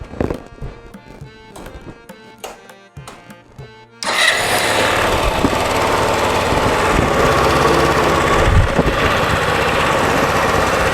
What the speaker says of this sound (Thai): ผมก็จะสตาร์ทเครื่องยนต์แล้วนะฮะ